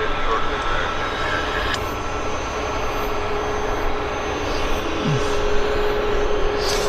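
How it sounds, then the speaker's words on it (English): WestJet and Air Canada Boeing jets taxi at an airport, a loud, steady engine roar and rumble filling the whole span without clear breaks. "WestJet and Air Canada both trundling down our way"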